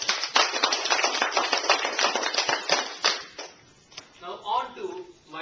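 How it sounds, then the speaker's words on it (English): Audience members applaud themselves after a program with a burst of steady, close clapping lasting about three seconds. It thins out as a voice begins speaking. "Let's give ourselves a round of applause"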